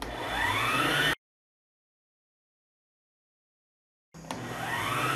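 An electric stand mixer beats a coconut batter of grated coconut: two loud, steady motor whirs with a rising whine, separated by about three seconds of silence.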